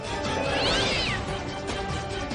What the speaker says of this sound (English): As Pinky fights to break free, Pritchard struggles to keep the animal from injuring itself